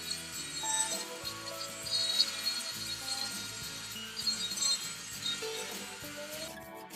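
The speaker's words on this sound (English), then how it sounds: "using the Dremel now to do some texturing on the centre feature and to take some of the rough edges off the beading" A Dremel rotary tool textures and smooths a turned sycamore burl piece with a steady high-pitched whine. Its scraping, rubbing contact noise shifts in pitch and pressure throughout, close and continuous.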